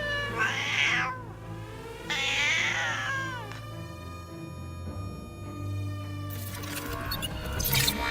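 Cats meowing close up, several drawn-out, wavering meows and caterwauls in separate bursts over a quiet background.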